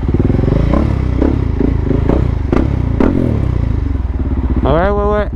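Loud motorcycle engines rumble close by in a Montpellier street with throbbing exhaust and a rising rev at the end as a bike passes.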